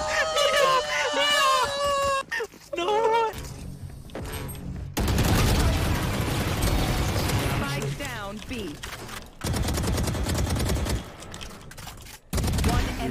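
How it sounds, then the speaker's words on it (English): Rapid bursts of gunfire from the video game Valorant, loud and dense across most of the stretch, with shouting voices and game sounds mixed over the shooting. "So many fucking guns."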